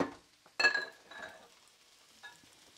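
Green lentils warming in a pan give a soft sizzle and stir, with a louder burst of scraping and frying near the start that fades to a quiet hiss.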